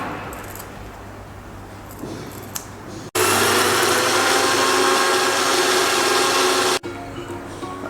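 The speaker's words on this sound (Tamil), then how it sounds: "இப்போ நான் இதை வந்து ஜாரில் போட்டு ஃபியூ செகண்ட்ஸ் கிரைண்ட் பண்ணிட்டேன்." Mixer grinder jar whirring as it grinds chopped betel leaves for paan laddoo, a loud steady burst lasting a few seconds between quieter kitchen background.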